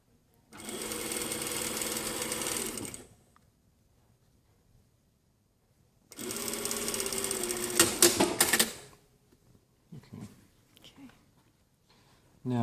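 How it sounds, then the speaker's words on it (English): Sewing machine stitching a jacket collar seam at a 6 mm allowance, running in two bursts of steady whirring of about two to three seconds each, separated by quiet, with handling clicks after the second run. "Sewing this at 6 mil."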